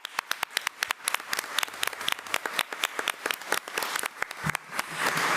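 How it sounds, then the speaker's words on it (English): Applause at a school board meeting, a crowd clapping steadily with many overlapping claps that swell slightly toward the end, heard alone in a moderately quiet room. "If you would please give her a round of applause."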